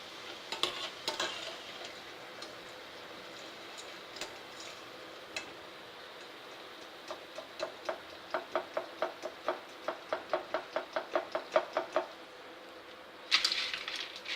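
Sweet sevai crisping in hot oil, a run of sharp crackling pops that quickens into a steady rhythmic ticking, close up, with no talk over it.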